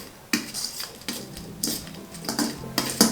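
A spoon scrapes and clinks against a bowl while papad chutney is mixed with chopped coriander, giving close, irregular stirring taps and scrapes with no talking.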